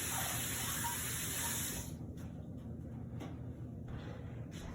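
Water sprays hard and steadily while something is rinsed in a kitchen cooking class, a loud hissing gush that cuts off abruptly, followed by a few faint clunks and knocks.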